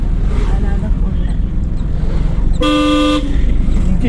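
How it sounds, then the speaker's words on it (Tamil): A car engine drones loud and steady from inside the cabin during a driving lesson, a constant low rumble broken midway by a short, clear horn toot. "இன்ஜின் நாய்ஸ் கேட்குது."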